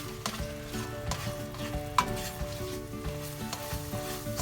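Chopped green serrano chilies sizzle in melted butter in a pan for paneer bhurji, giving a steady, soft crackling fry broken by scattered sharp pops and spatters, with no voices.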